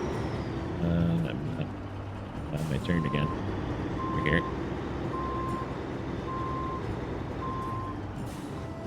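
A highway truck in Snowrunner idles and manoeuvres, its engine rumbling steadily while a backup alarm beeps in an even rhythm. Someone talks over the truck at times.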